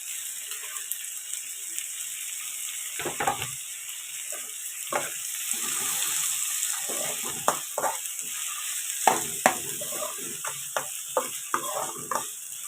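Tomato pieces sizzling in a pan with ginger garlic paste for an egg masala curry, a steady hiss broken by irregular stirring scrapes and clinks, close and without speech.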